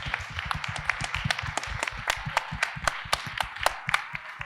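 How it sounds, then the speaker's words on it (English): A small audience at a film-industry event claps, sparse individual hand claps rattling in an uneven rhythm, close and moderately loud throughout. "that deserves a round of applause"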